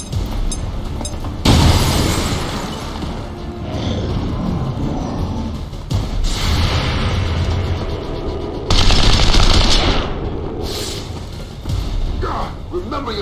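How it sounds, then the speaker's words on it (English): In the XCOM 2 video game, a grenade is thrown and bursts amid rattling automatic gunfire, with several loud blasts and bursts of shooting stacked close together and a voice calling out between them. "Throwing grenade!"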